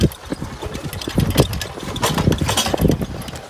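A motorbike being push-started sputters and chugs unevenly up close, its engine coughing in irregular bursts over rough scuffing and handling noise without settling into a clean idle.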